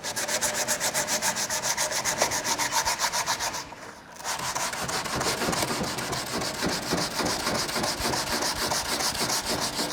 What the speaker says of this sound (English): I'm just taking off any more loose paint that may be on there, and I'm feathering the existing paint